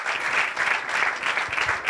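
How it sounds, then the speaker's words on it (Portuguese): Audience applause fills the room, a steady dense clapping from a crowd at a live Portuguese stand-up comedy show, continuous and fairly loud with no speech over it. "Eu gostava de pedir uma salva de palmas para eles, por favor."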